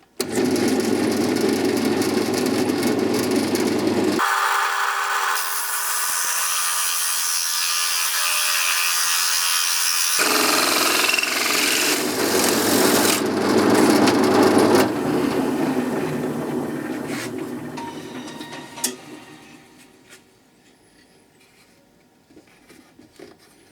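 A drill-mounted toy wheel hole cutter whirs loudly and steadily, its pitch and tone shifting in stages as it bites through wood, then winds down to quiet rattles.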